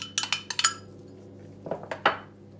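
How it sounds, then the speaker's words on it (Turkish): A utensil scraping and tapping against a bowl while curd cheese is mixed into boiled mashed potatoes, a few sharp clinks early, then softer knocks after a pause, close and quiet. "Lor peynirimizi Patatesimizin içine karıştırıyoruz."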